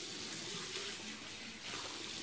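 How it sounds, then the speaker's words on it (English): Running water from a tap pours steadily as a makeup brush is rinsed beneath it, giving a continuous faint hiss with slight changes in the splash. "You just take this and rinse it off."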